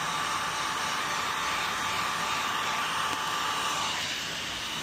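A heat gun blows steadily on vinyl wrap applied to a Jeep JL, a continuous close-up airy whoosh with a faint fan whine that holds level throughout and eases slightly at the end.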